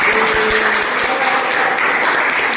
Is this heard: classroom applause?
yes